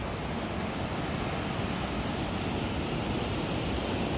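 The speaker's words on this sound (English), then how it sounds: "Angry river right here." A swollen river rushing just downstream of a dam's emergency spillway on the Appalachian Trail, a loud, unbroken roar of turbulent water filling the clip evenly with no voices.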